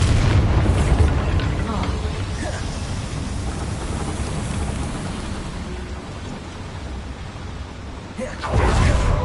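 Bombarda explosion spell cast in the video game Hogwarts Legacy, a loud booming blast that rumbles on continuously with a fresh burst near the end.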